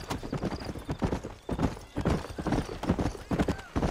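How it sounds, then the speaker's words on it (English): Horse hooves clip-clop at a steady trot in the Western video game Red Dead Redemption, a brisk, even rhythm that sounds close and continuous, with a faint snort or whinny mixed in. "let's mount up and hit the trail. Giddy up."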